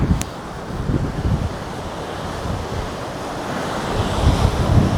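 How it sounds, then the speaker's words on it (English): Surf rolls in at Deerfield Beach under heavy wind, with continuous wave wash, swelling surges and constant wind buffeting on the microphone, and no talk. "I mean as in some good surf, pretty heavy winds"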